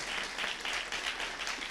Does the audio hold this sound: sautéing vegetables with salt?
no